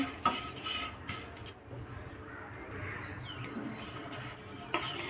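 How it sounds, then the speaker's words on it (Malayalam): Flattened rice (aval) being roasted and stirred in a pan, with a spoon scraping and clinking against the metal in a few short strokes, faint and close, with a bird cooing softly in the background. "അവിൽ നന്നായിട്ട് മൊരിഞ്ഞ് വരുന്ന രീതിയിൽ വറുത്തെടുക്കണം കേട്ടോ"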